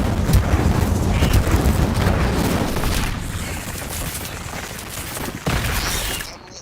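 Rapid, loud, blasting bursts of the Incendio fire spell cast repeatedly in Hogwarts Legacy, a dense roaring crackle that eases off midway before a final sharp burst, with no voices.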